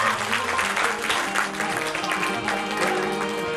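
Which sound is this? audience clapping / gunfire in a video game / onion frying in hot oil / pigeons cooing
audience clapping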